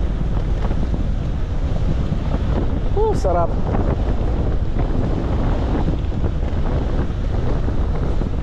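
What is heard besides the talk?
strong wind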